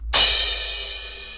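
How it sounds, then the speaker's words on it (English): Single crash cymbal hit from an FL Studio pop beat, a loud bright wash that strikes sharply and decays slowly over about a second, heard alone. "And then I added a crash rhythm that sounds like this."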